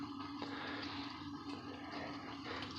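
Water rushes steadily through a freshly repaired pipe after the valve is opened, a continuous close hiss and gurgle at moderate level with no talking.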